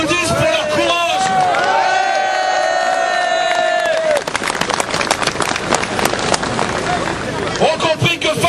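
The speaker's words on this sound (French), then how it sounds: "Et je voudrais qu'on les applaudisse pour leur courage." A crowd at a French trade union rally breaks into loud applause mixed with cheers and shouts. It follows a stretch of whistling and crowd noise, with the dense clapping continuing to the end.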